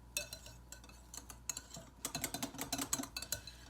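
A utensil clinks and scrapes against a bowl while popover batter is mixed, in quick irregular taps that build to a faster stirring rhythm, fairly close and with no talking.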